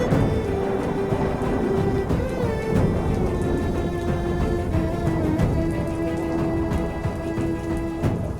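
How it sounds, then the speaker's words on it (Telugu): Heavy rain pours steadily with rolling thunder and dense drops pattering on surfaces, loud and continuous throughout, with a faint sustained tone underneath. "వాన తగ్గేలా లేదు."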